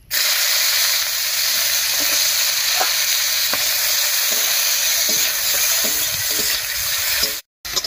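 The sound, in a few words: chopped onions frying in fish-frying oil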